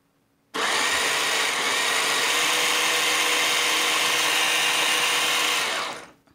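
A TopMaz Racing Mustang GT4 RC car, new out of the box and not yet charged, revving its electric motor at half throttle, a loud steady high-pitched whine that starts abruptly, holds for about five seconds, then winds down.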